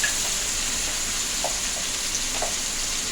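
Masala frying in a pan for Andhra chicken curry, a steady, close sizzle with faint stirring scrapes and soft pops now and then.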